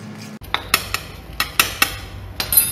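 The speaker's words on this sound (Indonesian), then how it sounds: "Diaduk." Whisk or spoon scraping and clinking against a bowl while flour mixed with baking powder is stirred for fried choux dough, a run of sharp, close taps and scrapes at irregular intervals.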